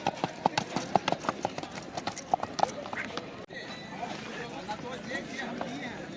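Hooves of a racing horse at the Brahmapur horse fair in Bihar, a rapid close clip-clop that stops after about three seconds, followed by crowd noise and an announcer speaking.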